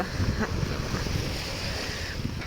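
A massaging shower stream pours onto legs, a steady rushing hiss of water running continuously and fairly loud, with no voices.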